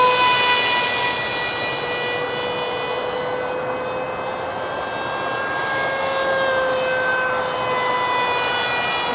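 A radio-controlled model airplane engine at full throttle gives a steady, high-pitched whining drone with faint shifting tones, held loud and continuous throughout with no talking.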